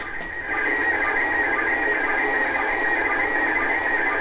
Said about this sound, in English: what you hear there is a slow scan television signal